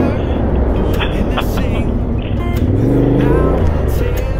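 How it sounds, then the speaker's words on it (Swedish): A Yamaha Tenere 700 or Honda Africa Twin adventure motorcycle engine roars steadily among dunes by the ocean, close and loud throughout, with some shifting pitch as it pulls; wind or rough noise runs under it. "Oj, nu hör jag bara motorljud"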